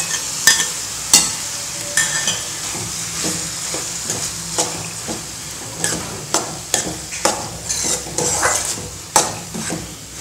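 A ground paste of coconut, green chili, cumin and garlic stirred into a cooking pan, a spoon clacking sharply against the metal in an irregular rhythm over a low, steady sizzle.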